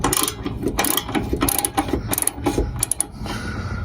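A ratchet wrench clicks rapidly and loudly while loosening the bolts holding running boards on a lifted 2020 Chevy Silverado, with repeated bursts of dense ratcheting close by and no talk.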